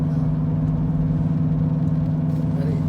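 A 2014 Ford Escape with a suspected failing wheel bearing, driving at 50 km/h and up, gives a steady loud low hum and rumble from inside the cabin, continuous and unchanging with no talking.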